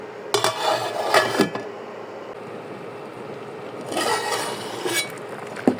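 A metal lid shifts and settles over a pot of river prawn curry with cauliflower and beans, producing a few clanks and scraping rubs, close and moderately loud, with a second burst of rattling later.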